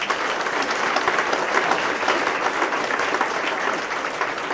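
Audience at the official launch of a harness manufacturing facility applauding performers, a dense, even wash of clapping throughout with no talk.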